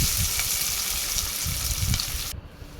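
Mustard seeds, onion and curry leaves tempering in hot oil for a brinjal gravy, a close steady sizzle and crackle with a few low stirring knocks, cutting off near the end.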